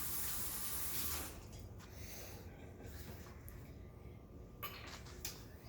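A spoon rinsed under a running kitchen tap: a loud spray of water for about a second, then a softer trickle with faint clinks and a brief splash near the end, no talking.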